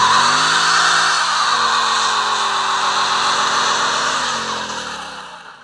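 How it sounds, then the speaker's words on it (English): A 2015 Ford Mustang GT holds a line-lock burnout, front brakes locked while the rear tires spin, its engine roaring steadily and loudly with tire noise for several seconds before easing off at the end. "line lock, which lets you lock up the front brakes to add some heat to the rear tires"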